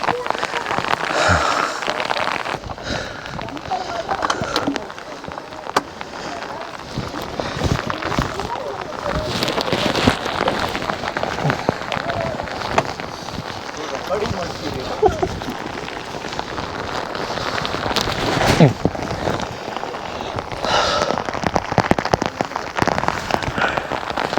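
Dense, steady monsoon rain pours down nearby at Ettina Bhuja, a hill in Karnataka, India, a loud continuous patter on surfaces, with faint talking mixed underneath.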